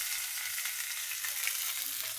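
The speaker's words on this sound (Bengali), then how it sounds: "এখানে মাছের কাল্লা ভাজি নেওয়া হচ্ছে" Fish heads fry steadily in hot oil in a pan, giving a continuous, even sizzle with a slight crackle throughout and no voices.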